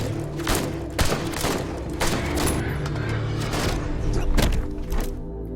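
Dense gunfire in an action-film shootout, a nonstop barrage of cracks and heavy booms with several strong hits standing out, loud and close with no talk.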